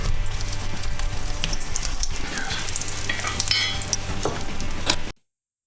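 Steaks sizzling in a hot oiled cast iron pan set directly over a fire, a loud, steady crackling fry that continues without a break and then cuts off abruptly.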